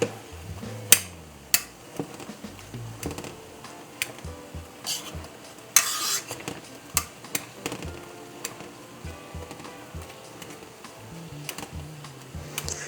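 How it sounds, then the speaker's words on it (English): Potato masher repeatedly pressing and squishing simmering blackberries in a pot for jelly, a series of irregular soft thuds and clacks against the pan with wet squelching between them, close and fairly loud, no talking. "I'm gonna use this potato masher to mash them up"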